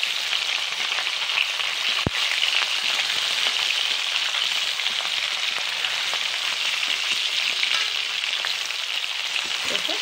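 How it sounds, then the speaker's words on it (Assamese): Rohu fish fries in hot oil with a steady, dense sizzle and crackle that holds at an even level throughout, broken once by a single sharp click. "এয়া মাছ ফ্ৰাই কৰিলোঁ"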